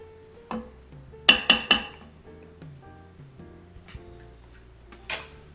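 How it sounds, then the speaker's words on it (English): A spoon clinks against the metal pot of an InstantPot while spinach and heavy cream are stirred into Italian sausage soup with rice, giving a few sharp close taps and softer scrapes with quiet gaps between. "So just give that a good stir."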